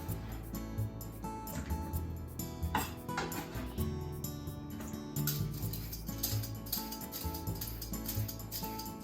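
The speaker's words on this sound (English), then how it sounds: "Let's put it in a large bowl and do the same for the carrot." Sliced daikon radish drops into a large bowl during kitchen prep, giving a run of light clinks and soft clatters against the bowl, close and moderately loud, with faint background hum.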